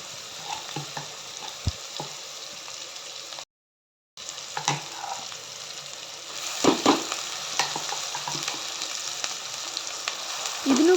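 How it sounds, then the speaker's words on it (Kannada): Ground chilli masala with onion and turmeric fries in oil for green chilli chicken, a steady broadband sizzle broken by clinks and scrapes of stirring, with a brief silent gap midway and louder crackling near the end. "ಎಣ್ಣೆಯೊಳಗೆ ಸರಿಯಾಗಿ ಫ್ರೈ ಮಾಡ್ಕೋಬೇಕು"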